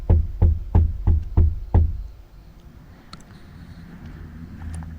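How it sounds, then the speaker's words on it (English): Several loud, sharp knocks rap on the locked back door of a truck at night during solo camping, six quick blows in a steady rhythm, then quiet rustling and faint background noise. "He's literally knocking on my truck."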